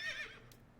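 A horse in the video game Assassin's Creed Valhalla gives a short, high neigh that quickly fades, heard alone and fairly quiet.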